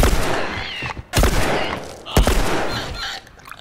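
Loud bursts of gunfire in the video game The Last of Us Remastered on PS4 crack through the clip in several sharp shots over a dense, busy background of game effects.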